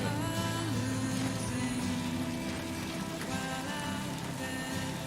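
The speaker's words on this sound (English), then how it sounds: "The rain effects look pretty good." Steady rainfall in a video game technical alpha, a continuous hiss of drops layered with tonal game music and ambience, even in loudness throughout with no talking.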